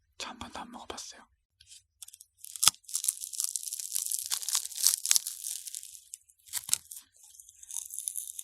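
A crunchy, sweet cloud-type snack is bitten and torn close to a sensitive microphone in an intimate ASMR setting: bursts of crisp crunching and crackling separated by short silences, with faint whispering mixed in.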